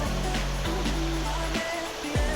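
Water rushing outdoors along a stream on a nature walk, a steady broad roar close by with a low engine-like hum mixed in, no talk.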